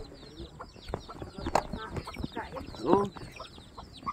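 Chickens cluck intermittently in the background while a person speaks briefly nearby, with scattered bird calls throughout.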